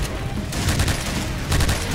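A rare gun in the Point Blank video game fires in short three-round bursts, loud and close, with several clusters of quick shots separated by brief gaps and no talking.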